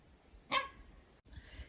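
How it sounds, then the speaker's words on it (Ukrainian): A neighbour's dog lets out a single short, sharp bark, moderately close, with quiet garden ambience and faint rustling around it. "Ну, це, правда, сусідська собака"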